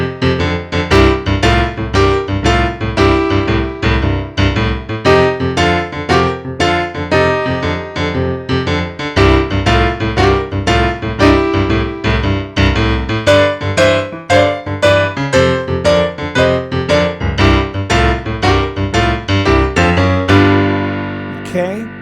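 Jazz keyboard plays a blues turnaround, chords and bass notes moving in a steady rhythmic pattern, loud and close throughout with no talking, ending on a held chord.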